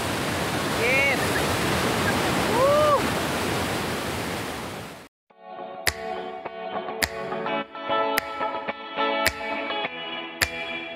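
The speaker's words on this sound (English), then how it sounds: "The cascading water of Aliwagwag Falls." Aliwagwag Falls in Davao Oriental pours as a steady, loud wash of cascading water for about five seconds, then the roar drops away and something quite different follows: sharp evenly spaced clicks over tonal sounds.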